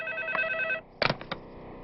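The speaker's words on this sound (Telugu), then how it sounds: "ఏమయ్యో పిల్ల దగ్గర నుంచి ఫోన్ అనుకుంటా" A telephone rings in a steady electronic trill for under a second, then cuts off, followed by a few sharp clunks as if the receiver is picked up.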